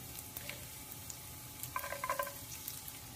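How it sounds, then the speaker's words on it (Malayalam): Chopped garlic dropped into hot butter in a pan for homemade cream of mushroom soup, a faint steady sizzle with a brief louder crackling burst partway through, with no talking. "അപ്പം ഞാൻ ചോപ്പ് ചെയ്ത് വെച്ച ഗാർലിക് ചേർത്ത് കൊടുക്കുകയാണ്."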